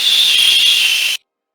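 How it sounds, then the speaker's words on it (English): A whistling sound carried through the air: a single steady, high, piercing tone held loudly for just over a second with a faint hiss beneath, then cutting off abruptly into silence. "It's just like a very like whistling sound you hear from the air."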